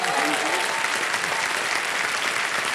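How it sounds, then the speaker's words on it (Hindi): Applause from a television quiz show studio audience for a contestant, a steady, even roar of many hands clapping that fills the whole moment. "तालियां बज जाए उनके लिए।"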